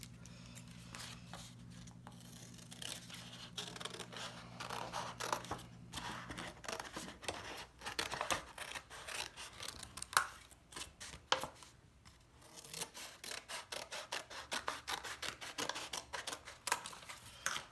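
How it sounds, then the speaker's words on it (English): Scissors snip through paper plate pieces in a long run of close, crisp cuts, some quick and rhythmic, others spaced with short pauses and paper rustle, with a low hum in the first few seconds. "So now I'm going to cut the pieces."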